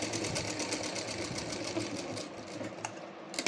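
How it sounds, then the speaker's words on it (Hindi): Sewing machine double stitching a choli-cut blouse runs in a steady, rapid mechanical chatter, faint and continuous with a brief pause near the end. "डबल स्टिचिंग ज़रूर कर दें।"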